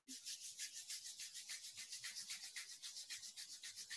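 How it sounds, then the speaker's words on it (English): Palms rubbing briskly together during a yoga breathing session, a steady rhythmic swishing friction that repeats about three times per second, close and soft, with no other sounds. "Now rub your palms"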